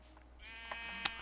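A sheep in Minecraft Java Edition gives a single clear bleat, fairly close, rising out of a quiet background with no talking.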